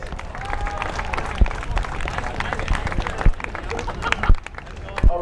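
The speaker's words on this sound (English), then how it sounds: "Let's give him a big round of applause." A baseball crowd applauds a grounds crew leader, a dense spread of clapping with a few louder sharp claps poking through and some voices mixed in.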